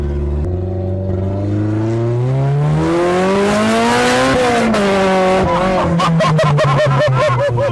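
A Honda Jazz fitted with a Honda Type-R engine revs hard and accelerates, its loud engine note climbing through rising pitch before a gear change and another sharp climb, ending in rapid throttle blips.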